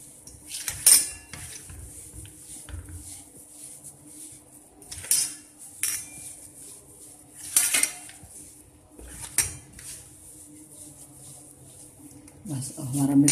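Spoon scraping and clinking against a metal pot while semolina laddu mixture is stirred, several scattered knocks and scrapes over a quiet room, with a person speaking between the sounds.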